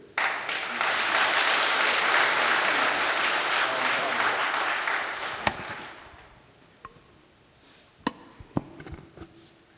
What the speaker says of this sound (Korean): 찬양팀들과 찬양대원들을 사용하신 하나님께 영광의 박수 올려드리겠습니다.